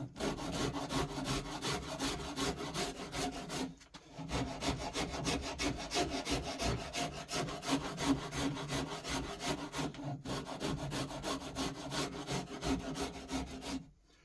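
Shinto rasp filing a facet into a yew guitar body, a steady scraping rasp of continuous back-and-forth strokes, close and moderately quiet, with two brief pauses.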